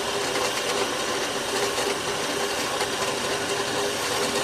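Taxidermy fleshing machine stripping fat from an animal hide, a steady, loud, continuous whirring grind with dense high-frequency hiss that holds even throughout, no pauses or talk.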